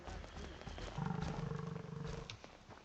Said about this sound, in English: Very low guttural growl.